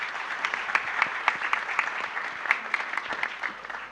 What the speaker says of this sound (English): Can we get another round of applause for all our panelists?